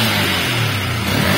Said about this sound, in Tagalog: pag biglang angat ng throttle mga bro, naiiwan yung pick up ng makina